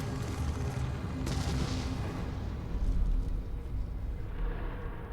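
Sustained gunfire and heavy blasts rumble through a battle in the video game Resident Evil 7, a dense, continuous barrage with a few sharper reports on top.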